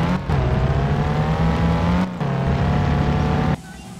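A car engine in the 2000 racing game Need for Speed Porsche drones loudly and steadily, its pitch slowly climbing, broken by two short gear-change dips before it drops away near the end.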